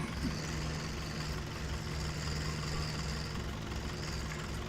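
A tractor engine runs steadily at a constant low idle-like drone, continuous and fairly close, with no talk.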